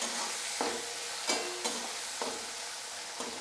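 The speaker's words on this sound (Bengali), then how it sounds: "আঁচটা আমি মিডিয়াম করে পেঁয়াজটা ভেজে নেব।" Chopped onion fries on medium heat in a pan, a continuous close sizzle punctuated by a few soft, evenly spaced scrapes and taps of stirring.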